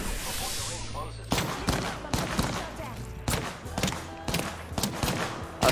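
Enemy gunfire in a team shooter game, heard as repeated bursts of sharp shots at irregular intervals, fairly loud and close, with a dense rattling layer beneath and no clear talk over it.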